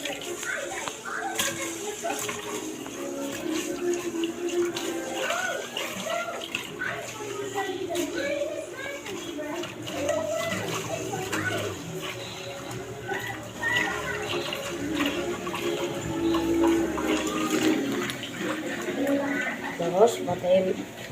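Tap water runs steadily while rice is rinsed and swished by hand in a container, a continuous splashing wash with children's voices and chatter in the background throughout.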